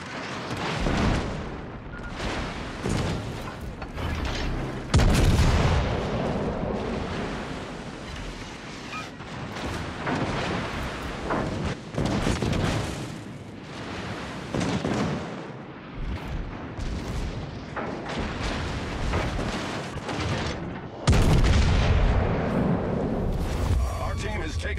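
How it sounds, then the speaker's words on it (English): Naval guns firing at an enemy warship in a video game, heavy booming salvos repeating over a continuous roar of sea and engine, with voice callouts heard throughout. "Concentrate fire on the enemy warship."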